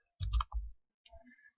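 A computer mouse clicked a few times, short sharp close clicks in a quick cluster followed by a lighter pair after a pause, in a quiet room.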